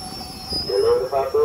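A commuter train rolls through Manggarai station in Jakarta, its rumble carrying high squealing wheel tones at moderate distance, with a voice faintly present in the background.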